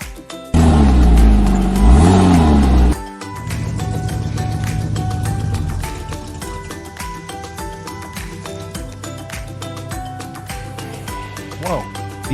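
A Thar off-road vehicle's engine revs hard for a few seconds while racing up a slippery hill, followed by a music-backed stretch with voices talking.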